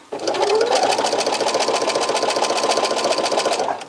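A sewing machine runs steadily at close range, stitching a sweater seam with clear elastic in a fast, even mechanical whir that holds from start to finish with no talk.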